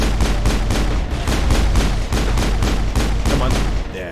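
Loud, rapid gunfire in the video game Mass Effect during a firefight with thugs: dense, repeated shots in quick succession, close and continuous for the whole stretch.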